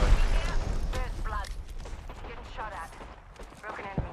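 Rapid gunfire bursts from an online shooter game, steady and fairly loud, mixed under near-constant talking voices with a sharp shot near the end.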